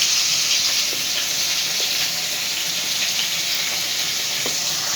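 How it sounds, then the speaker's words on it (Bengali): Fish frying in hot oil in a pan gives a loud, dense, continuous sizzle, with a few faint clicks from a spatula as the pieces are turned over. "মাছটা উল্টাচ্ছি।"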